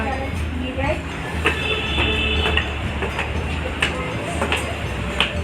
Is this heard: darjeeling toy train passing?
yes